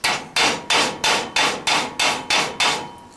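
A round metal pipe being hammered into a square shape, heard as eight loud, evenly spaced ringing metal strikes close by, each fading quickly, with no voices.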